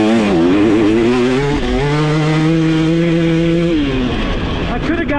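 A 2023 KTM 300 XC TBI two-stroke dirt bike ridden in third gear on a turn track, its engine loud and close, revving up and holding pitch before easing off, with the clutch slipped through the turn.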